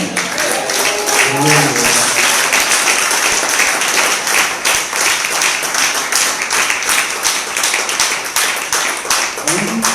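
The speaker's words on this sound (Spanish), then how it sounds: "¿Le podemos dar un aplauso a nuestro Señor?" A church congregation claps continuously for several seconds, a dense, lively applause with a brief voice at the start.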